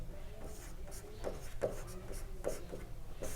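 Chalk or marker writing out logarithm math for a class 12 maths lesson, with scratchy strokes and a few sharper taps over a steady room hum, close and moderately quiet.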